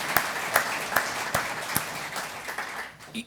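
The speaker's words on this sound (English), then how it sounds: "you can clap if you want, ladies and gentlemen" Audience clapping at the IMSA State of the Sport presentation, heard as a slow, evenly spaced series of sharp, distinct claps roughly every half second, moderately loud over quiet room tone.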